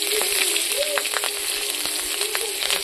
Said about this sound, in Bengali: তেল দিয়ে দিয়েছি কড়াইতে। এখন আমি তেজপাতা কাঁচা লঙ্কা দিতে দেবো